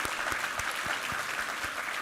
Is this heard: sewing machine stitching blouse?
no